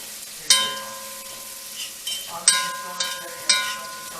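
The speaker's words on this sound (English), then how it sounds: "I'm going to stir the vegetables up," Curry vegetables for tofu sizzling in a pan over a fire, with a spoon knocking and scraping against the pan in four or five sharp strokes over a soft steady frying hiss.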